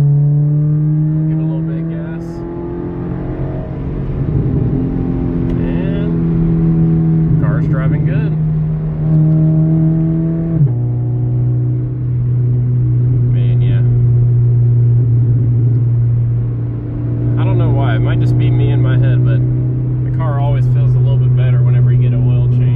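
Scion FR-S with freshly changed oil driving in paddle shift mode, heard from inside: a steady engine drone that rises, drops at a gear change and climbs again, with someone talking over it.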